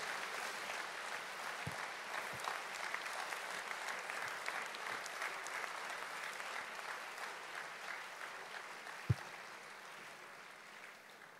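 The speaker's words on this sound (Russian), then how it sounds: "Дайте аплодисменты Господу." Sustained applause from a church congregation at a prayer gathering, steady dense clapping throughout with a few sharper claps standing out, fairly distant and even in level, no voices over it.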